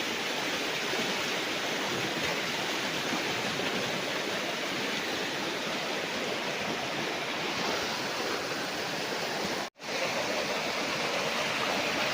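A river in Majayjay, Laguna rushes past beside a farm lot, a loud, steady broadband roar of flowing water that runs unbroken except for one momentary dropout near the end, with no voices.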